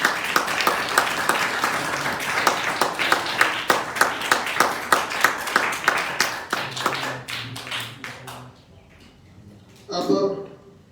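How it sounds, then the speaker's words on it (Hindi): An audience claps in rhythmic unison at a student prize-giving ceremony, loud regular beats that speed up slightly and then fade out, followed by a short burst of voice. "ताली बजती रहे।"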